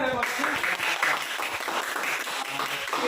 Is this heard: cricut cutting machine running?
no